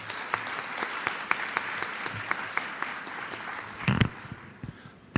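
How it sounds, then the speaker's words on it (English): Warm audience applause at a research paper competition ceremony, greeting a foreign affairs official before a keynote; steady clapping in a hall, a brief thump near the end as it dies away. "Please give him a warm round of applause."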